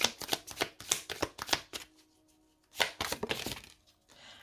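Tarot cards being shuffled close up in quick riffling bursts, two runs of crisp flicking separated by a short pause, with no talking.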